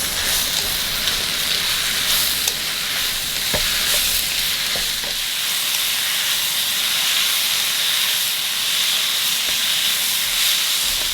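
Bite-sized pieces of young kabocha squash cooking with chicken in a stir-fry pan, a loud continuous sizzle and steamy hiss with occasional clinks of a utensil stirring, close and steady without speech.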